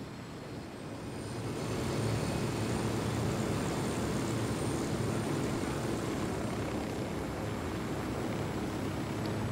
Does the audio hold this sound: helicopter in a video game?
yes